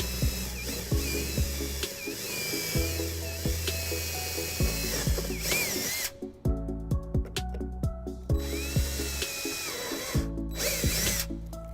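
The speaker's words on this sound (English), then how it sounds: "we're going to drill a couple holes here, drop some screws down and bolt it down" A power drill whirring loudly and close by in repeated bursts, spinning up and winding down as it bores mounting holes in a 2013 Dodge Grand Caravan for a trailer wiring bracket.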